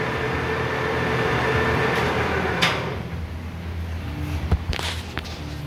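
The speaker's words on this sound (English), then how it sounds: "Start the spindle." A Leblonde Makino 15 x 54 lathe gives a steady mechanical hum and rumble. A sharp clunk comes partway through, followed by a quieter running drone with a few knocks. The sound is loud and close.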